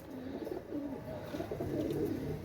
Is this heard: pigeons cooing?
yes